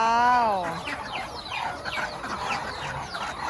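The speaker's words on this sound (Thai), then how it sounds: "ดูฝูงเป็ดสิคะ" A flock of ducks eats rice porridge in the morning, their overlapping honking calls rising and falling close by without a break.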